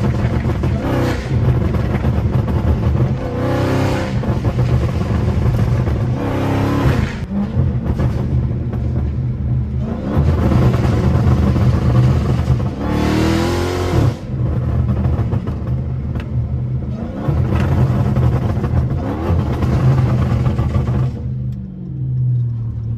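A loud catless Chrysler exhaust revs hard and drives by, deep rumbling bursts swelling and falling several times over a continuous engine drone, close and alone.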